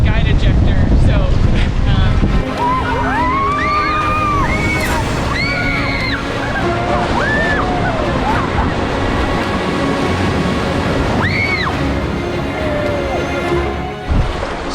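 A boat running river rapids in Montana, with rushing water and wind buffeting loudly throughout while voices shout and talk over it.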